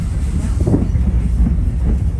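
A Strasburg Railroad passenger train on its Long John Limited run rolls steadily along the tracks, a continuous loud low rumble with faint wheel clatter running throughout.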